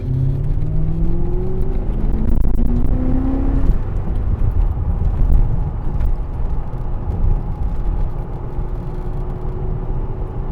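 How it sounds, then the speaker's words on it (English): A BMW E34 rumbles along with its muffler still in place, its exhaust note steady and droning, rising briefly as it revs before settling into a constant cruising growl, with no talking. "Car sounds great and the muffler's not even out."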